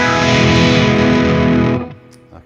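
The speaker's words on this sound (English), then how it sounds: "That's a happy distortion." Electric guitar played through a distortion effects pedal, a thick sustained distorted chord ringing loudly, then cutting off abruptly near the end and leaving a brief faint tail.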